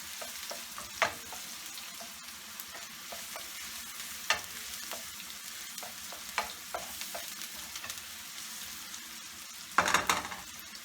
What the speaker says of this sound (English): And we're going to saute this until they're translucent, and then I'm going to add garlic.